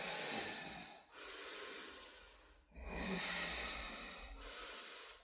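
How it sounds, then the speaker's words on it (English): Slow breathing during a vinyasa yoga class, long breathy exhales and inhales in close succession, soft and airy with brief pauses between breaths, no speech. "Nice and long with the exhale."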